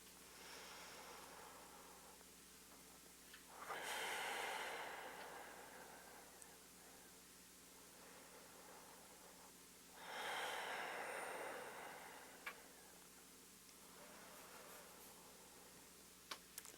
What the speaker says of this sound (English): 3 more slow, deep breaths.